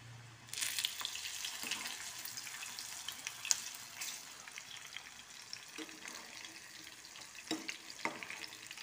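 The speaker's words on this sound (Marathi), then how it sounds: "तेल तापलं आहे, आता आपण शेंगदाणे सोडूया." Peanuts hit hot oil in a pan and fry with a steady bubbling sizzle, a sharp burst at the start, then continuous crackle with occasional scrapes and clinks of a utensil, fairly quiet and close.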